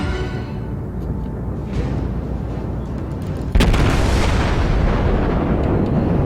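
Naval gunfire from a destroyer in World of Warships, heavy booming salvos over a constant low rumble of battle ambience, with a sharp loud blast near the middle followed by sustained roaring noise.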